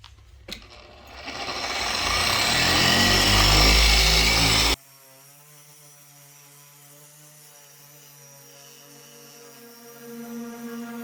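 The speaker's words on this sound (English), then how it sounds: "I have rubbing compound on the headlight right now, and I'm going to" A power buffer polishes a car headlight coated in rubbing compound, a loud steady whir that ramps up for a few seconds and then cuts off abruptly, leaving a faint tonal hum.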